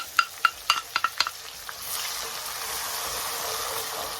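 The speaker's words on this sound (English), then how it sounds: "in goes our onions, crushed garlic and Scotch bonnet" Onions, crushed garlic and Scotch bonnet pepper drop into a pan with a quick burst of clinks and stirring knocks, then settle into a steady, moderately loud sizzle with no one talking.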